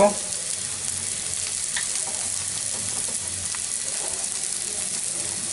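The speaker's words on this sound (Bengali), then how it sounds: "পেঁয়াজটা প্রায় ভাজা হয়ে গেছে" Onion frying in a pan for an oil-free beef curry, with a continuous close sizzle and the scrape of stirring, steady and fairly loud throughout, with no talk.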